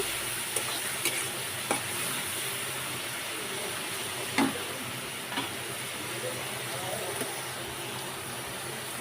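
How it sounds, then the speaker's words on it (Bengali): Prawns fry in hot oil in a home kitchen, a steady broadband sizzle with a few soft clicks and stirring knocks, close and even throughout with no one talking. "চিংড়ি মাছটাকে তেলের ওপরে আমি ভেজে নিচ্ছি"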